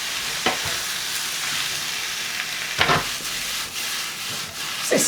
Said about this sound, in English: What's this spoon business about when you can just toss it around?